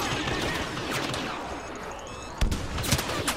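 Gunfire and explosions in the Star Wars Battlefront beta, a dense battle din of rapid shots with a couple of sharper blasts near the end, loud and continuous.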